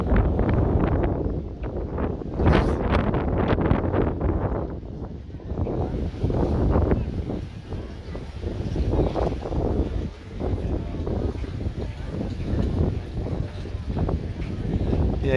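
Strong wind buffets the microphone on the beach at Corralejo, Fuerteventura, a loud continuous rumbling roar with gusty swells, while someone talks over it throughout.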